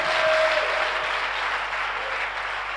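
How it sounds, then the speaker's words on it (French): Congregation clapping at a church worship service, a steady wash of applause throughout with a faint sustained tone early on and no clear voices. "If you believe, give God a big clap"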